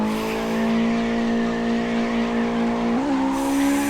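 Virtual car drifting in CarX Drift Racing, a steady high engine drone with a sustained tire squeal that bends in pitch near the end, continuous and loud with no voices.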